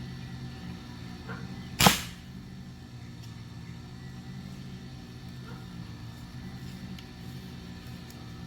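A single sharp, close pop from an Uramex Air Javelin air-powered arrow gun fired at a target 10 yards away outdoors, followed by a quiet background hum.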